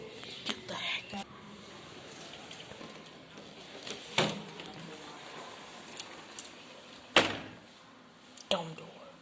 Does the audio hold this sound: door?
yes